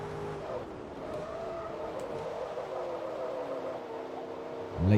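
A race car engine in Forza Motorsport 2 whines through a final lap. Its pitch slides up and down with gear changes and braking, and it grows louder at the very end.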